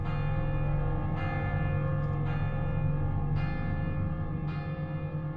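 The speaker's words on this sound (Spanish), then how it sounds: "En la distancia oímos las campanas de Viviers" Distant church bells from the villages around Viviers ring out in slow, evenly spaced strikes, four clear peals about a second apart over a steady low drone.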